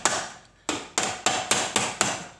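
Six sharp metallic taps of a hammer shaping a copper cup, each strike ringing briefly, close and fairly quiet in an irregular but quickening rhythm.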